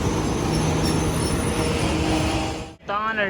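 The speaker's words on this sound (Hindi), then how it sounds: "तो इधर सामने ही रेलवे इधर मुल्तान ट्रेन आ चुकी है" The Multan train arriving on a railway track beside a cricket ground: a loud, continuous rumble of rolling wheels and carriages close by, with a brief dip near the end followed by a wavering voice.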